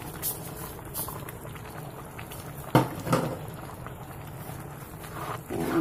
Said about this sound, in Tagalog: At kumukulo na yung ating ginisang bagoong alamang.